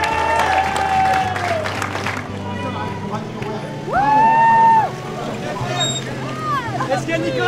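Crowd applause at a car rally event, a steady broad clapping roar under loud voices and background commotion, with a few whistles or shouts cutting through.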